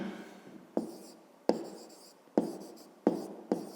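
Chalk writes on a classroom board in a series of about six quick strokes, each a sharp scratchy tap trailing off into a soft drag, close and clear with no talk.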